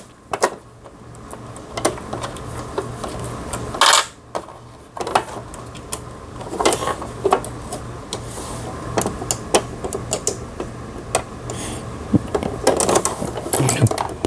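Sewing machine stitching in short bursts, a close mechanical whirring and rapid clatter that starts and stops several times with small clicks and handling noises between runs.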